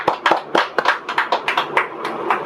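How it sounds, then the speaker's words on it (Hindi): A congregation claps loudly during a Hindi-language Palm Sunday church service, with sharp irregular hand claps that keep coming steadily close by for a couple of seconds, heard alone with no talking. "जोरदार तालियां प्रभु यीशु मसीह"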